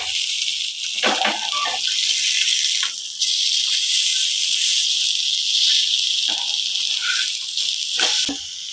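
Green fish frying in oil on a flat tava pan gives a steady, close hiss of sizzling with scattered crackles and pops throughout, and no voices.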